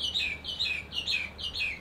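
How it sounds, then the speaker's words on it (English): Birds at an island resort in Vanuatu chirp in a quick repeating pattern of bright, high tweets, five or six bursts in steady rhythm, clear and fairly close with little else around. "You hear those birds?"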